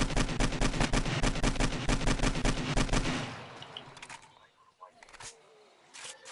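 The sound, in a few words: AK rifle gunfire in the video game 7 Days to Die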